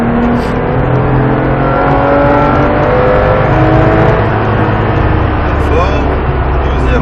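A Porsche 997 engine accelerates hard around the Mettet circuit, a loud continuous roar with rising engine pitch close to the cabin, while a person talks over it.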